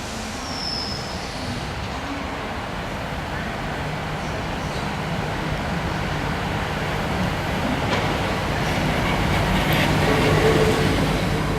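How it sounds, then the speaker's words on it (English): A bi-mode Hitachi Class 800 train rolls into a station platform, giving a steady, broad rumble that builds slightly toward the end, with faint voices in the background. "a bi-mode Hitachi Class 800 arriving at Platform 1"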